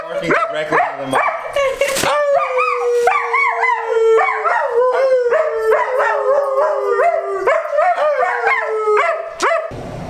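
A dog howls long and wavering up close, its cries broken by short barks and yips, steady and loud throughout.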